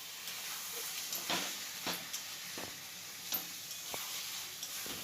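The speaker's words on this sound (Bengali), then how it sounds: "এটা একটু কষিয়ে নেব, মশলাটা যেন শুকিয়ে আসে।" Masala for a Bengali prawn malai curry with fried potatoes is stir-fried and dried out in a pan, giving a steady sizzle with scraping spatula strokes at irregular intervals, close and alone.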